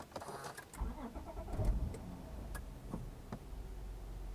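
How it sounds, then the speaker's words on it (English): A 2010s fourth-generation Acura TL SH-AWD with a manual gearbox cranks over and starts by push button, followed by a low, steady idle with faint ticking, recorded close and quiet. "we just have to put our foot on the brake and clutch and press the start button to go"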